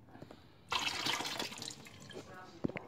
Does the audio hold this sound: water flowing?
yes